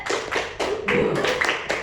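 Students in an Indonesian language class play a counted clapping game, giving short, sharp bursts of unison claps in small grouped sets with brief gaps between them, close and fairly clear.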